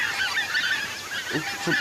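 Geese honk in the hunting video game Hunting Simulator, with a couple of clear, moderately loud calls standing out near the end over steady game ambience.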